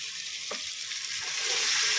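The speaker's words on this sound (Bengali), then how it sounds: "জিরের গুঁড়ো লঙ্কার গুঁড়ো ধনের গুঁড়ো সব মশলাগুলো আমি ভালো করে কষিয়ে নেব" Chicken sizzling and frying in a pan with cumin, chilli and coriander powders, a steady hiss with a brief stir partway through, close and continuous, no voices.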